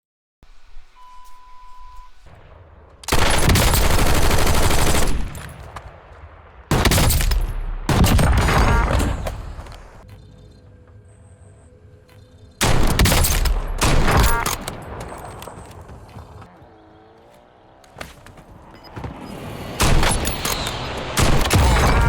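Call of Duty Warzone sniper rifle gunfire comes in several loud, sharp bursts separated by quieter stretches of game ambience and faint beeps.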